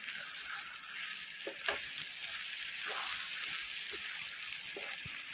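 Sugar and garam masala being stirred into a sizzling pan: a steady close hiss of frying with scattered soft scrapes and slosh-like stirring sounds, and no talk.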